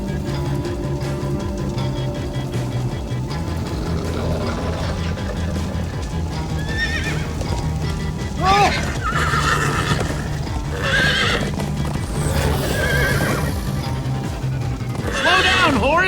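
A horse in Minecraft Story Mode gallops with a steady clip-clop and gives several whinnying neighs, set over a low game music bed while characters speak now and then.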